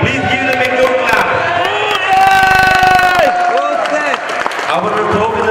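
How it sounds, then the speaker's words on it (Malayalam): Crowd noise at a badminton final and prize distribution as two doubles winners are called up, a busy hall full of cheering, whoops, chatter and scattered clapping, with loud voices and music-like tones mixed in. "Joby and Shaji Coventry, please give them a good clap."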